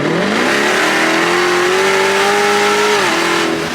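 A Dodge Demon 170 V8 revs hard after a fresh oil change, climbing to a loud, sustained wail, holding, then dropping back, close and unbroken with no talk.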